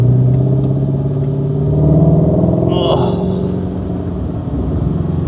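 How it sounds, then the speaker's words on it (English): A Ford Mustang Shelby GT350 V8 runs loud and close with a deep rumble, its pitch rising and falling slightly, and a brief clatter partway through. "That symphony of 8 cylinders, can't beat it."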